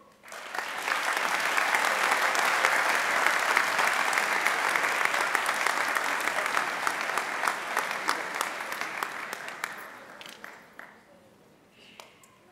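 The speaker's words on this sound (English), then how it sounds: "You can all clap, it's exciting." A high school senior assembly audience applauds loudly and steadily for several seconds, then the clapping thins into scattered claps and fades out.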